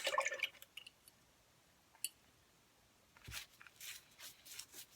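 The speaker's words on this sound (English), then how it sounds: "So let me rinse that off." A paint brush is swished and rinsed in water, with a few faint drips and splashes and a soft clink of the brush against a container, quiet and close with brief gaps between sounds.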